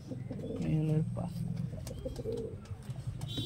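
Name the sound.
Madrasi pigeon cooing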